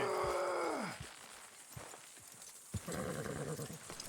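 Horse hooves clopping in Red Dead Redemption 2, a few scattered, fairly soft steps following a fading rumble, with a brief rustle of movement near the end.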